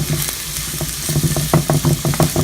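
Onion sautéing in a pan for chutney sizzles continuously, with a spatula knocking and stirring in quick repeated strokes close by.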